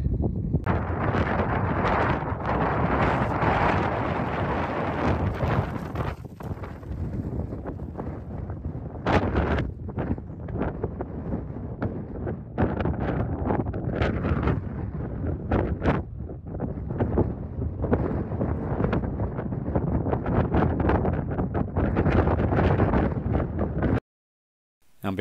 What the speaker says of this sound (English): we've reached the summit, and as you can see, it's a little bit windy